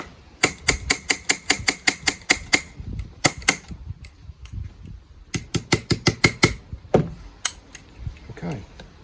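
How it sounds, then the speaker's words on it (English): A hammer taps on parts of a Gamo Whisper air rifle in quick metallic bursts of sharp, evenly spaced strikes, pausing between runs, close up with light handling noise in the gaps. "Right, let's use a hammer."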